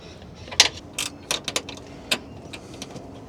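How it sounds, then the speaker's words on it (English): Ratcheting spanner turning a nylock nut on a van's kitchen plumbing, a series of sharp, close metallic clicks in irregular bursts against a quiet background. "this ratcheting spanner is going to be quite useful"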